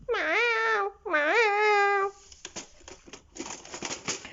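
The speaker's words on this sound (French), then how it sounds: "Un chat qui a besoin d'amour." A house cat meows twice, long and close, each call rising then falling, followed by soft rustling and handling noises.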